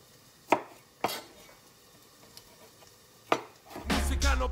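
A knife chops through a peeled, shelled ingredient on a board, cut like an onion for a vegetarian Indian-style omelet, giving a few sharp, separate knocks followed by a busier burst of cutting at the end.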